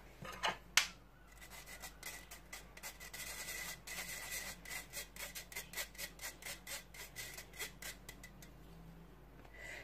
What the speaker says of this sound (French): je vais tamiser 90 g de sucre glace